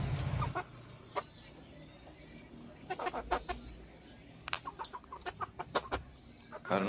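Free-range village chickens clucking outdoors on a small farm, scattered bursts of clucks at irregular intervals over a low, steady background, moderately near and fairly quiet.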